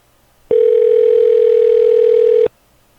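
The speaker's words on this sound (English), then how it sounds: "Do you guys hear that phone ringing?" A telephone rings on a live broadcast line, one sustained steady electronic tone lasting about two seconds, loud and alone, with silence before and after.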